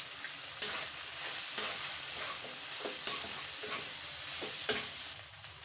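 Fish frying in a pan while being prepared for a Bengali fish bharta, a continuous soft sizzle with a few sharper pops and spatters, fairly quiet and close with no talking.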